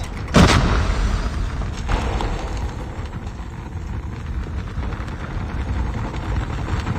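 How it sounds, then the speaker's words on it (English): A grenade explosion in the Call of Duty Mobile video game, one loud boom at the start fading into a low rumbling battlefield drone. "Grenade."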